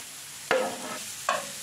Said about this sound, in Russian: И именно только сейчас я высыпаю морковку для зажарки.